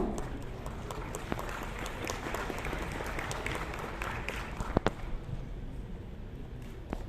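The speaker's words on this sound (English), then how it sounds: "Ladies and gentlemen, let the applause continue." An audience at the IIT Bombay E-Summit applauds Jaya Kishori with steady, dense clapping that sounds somewhat distant and fills the whole stretch, with a few sharper claps standing out.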